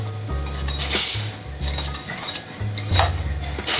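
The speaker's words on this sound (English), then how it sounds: "we'll just stir the egg mixture and gently add our cream in" A whisk or spoon stirring egg mixture in a bowl as hot cream is slowly poured in for keto crème brûlée, rhythmic close clinking and scraping against the bowl.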